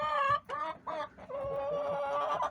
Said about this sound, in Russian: Чихает и как бы ларингит или фарингит